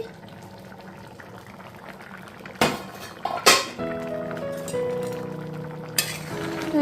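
Masoor dal stirred in a pot on a gas stove: a quiet bubbling start, then a few sharp metallic clanks and scrapes of the spoon, followed by soft background music.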